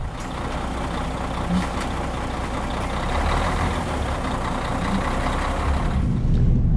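A truck loaded with about 29.6 tonnes of flour pulls out of a mill, its engine a steady, loud, close rumble with road and cab noise that swells slightly toward the end.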